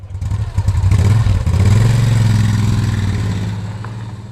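A motorcycle engine rumbles nearby in a small town in Bluff, New Zealand, revving up and holding a throaty drone before gradually fading as it moves away.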